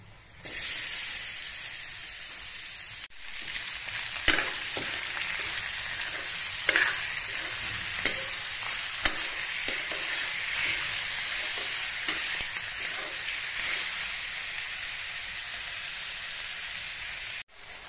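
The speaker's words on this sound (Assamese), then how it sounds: "মাংসখিনি মই 10 মিনিটমান ফ্ৰাই কৰি ল'লোঁ" Marinated chicken pieces, seasoned with salt, turmeric and spices, fry in a pan with a loud, steady sizzle and hiss, broken by occasional stirring scrapes and clicks throughout.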